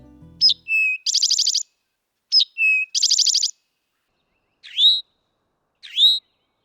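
Eastern towhee singing: two clear drink-your-tea phrases, each a sharp note, a lower whistle and a fast buzzy trill, then two short rising call notes, fairly close, in an otherwise quiet setting.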